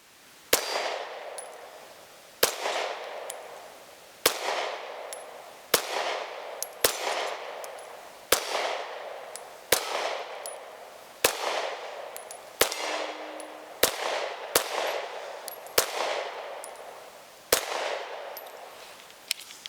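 Smith & Wesson Equalizer pistol fired at a range: about a dozen sharp, loud shots spaced irregularly one to two seconds apart, each with a brief ringing decay, no talking.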